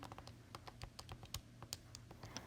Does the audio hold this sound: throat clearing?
no